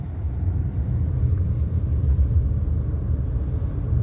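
A car drives slowly on a small road during a driving lesson. A steady low engine and road rumble sounds from inside the cabin, with no voices audible.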